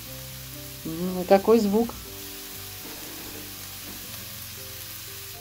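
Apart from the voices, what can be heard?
pieces of pork brisket frying in a dry hot pan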